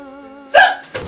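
One sharp hiccup comes after a short voiced sound, followed by a quieter breathy catch, close and loud.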